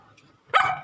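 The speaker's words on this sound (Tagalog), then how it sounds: "Mga aso." A dog gives a single sharp, loud bark close by near the end of a quiet moment.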